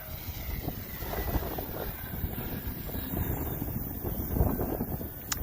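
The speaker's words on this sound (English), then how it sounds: "the wind will throw it around" Wind gusts across an open RC airfield, a steady rushing roar with buffeting rumble on the microphone, continuous and fairly loud with no voices.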